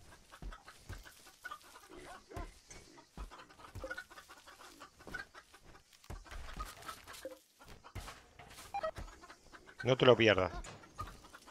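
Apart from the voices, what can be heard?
chickens clucking in the video game RimWorld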